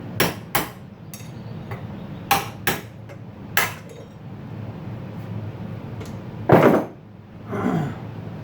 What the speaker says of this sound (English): Punch and your hammer.